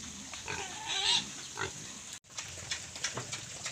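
Native pigs in the Philippines grunt and squeal in short, close bursts, with a brief break partway through and no talk.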